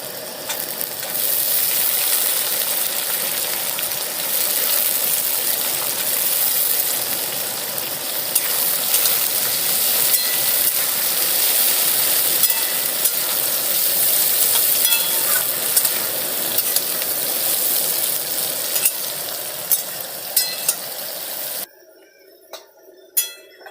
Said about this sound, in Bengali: এবার ভিজিয়ে রাখা কাজু কিশমিশগুলো দিয়ে দিচ্ছি।